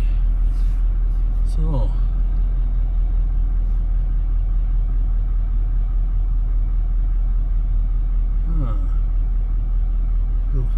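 A Duramax LP5 diesel engine runs steadily, a constant deep rumble with no revving, while someone talks nearby.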